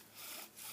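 Dry, rhythmic rasping of a wooden bow drill spindle spinning against wood, two quick back-and-forth strokes, close and fairly quiet.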